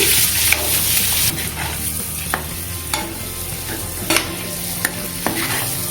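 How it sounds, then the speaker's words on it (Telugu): Frying spices with turmeric, salt and chili powder for an egg and dried shrimp curry, a steady close sizzle with regular scrapes and taps of a spoon stirring the pan; no talking. "దీంట్లోనే కొద్దిగా పసుపు, సాల్ట్, కారం కూడా వేసేసుకోవాలి. మనం ఫ్రై చేసుకోవాలి."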